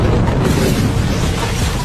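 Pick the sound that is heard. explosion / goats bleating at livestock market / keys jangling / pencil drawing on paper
explosion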